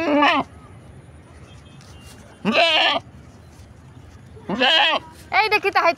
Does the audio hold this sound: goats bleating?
yes